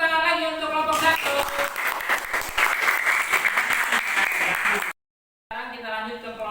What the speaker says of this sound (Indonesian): kita kasih tepuk tangan lagi untuk kelompok 1